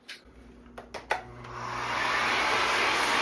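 A Miele vacuum cleaner fitted with a dust brush starts up after a few sharp knocks and clicks, then settles into a steady, loud whooshing motor drone that rises slightly as it runs, with no one speaking.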